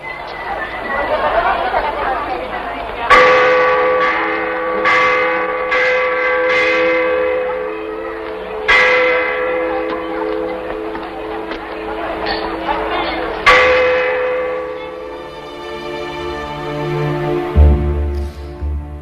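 Heavy church-style bell from the horror film La campana del infierno tolls several times, each loud strike ringing out and decaying slowly, with crowd chatter running underneath.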